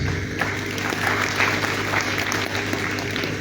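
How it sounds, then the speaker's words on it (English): Audience applause at a national forestry forum held in a ministerial complex, a moderately distant, steady patter of clapping lasting a few seconds without speech over it. "another round of applause"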